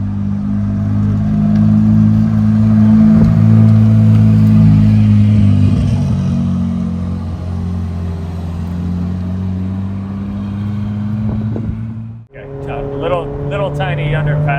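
Ferrari 430 Scuderia engine droning loudly in traffic with strong low harmonics, pitch shifting as it rolls, then a brief drop and a fresh rising note as it accelerates; people talk over it.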